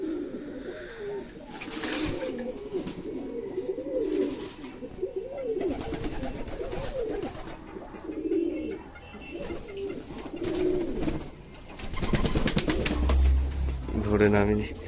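A male white lakka pigeon coos in repeated soft, rolling phrases, fairly close, with other pigeons and chirping birds around and a person speaking briefly over it.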